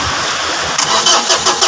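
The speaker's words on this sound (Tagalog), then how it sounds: "Nag-crank siya." A Mitsubishi L300 Versa van engine with a hard-starting problem on cold mornings cranks, loud and close, the starter whirring steadily before a series of rhythmic pulsing chugs begin to break through.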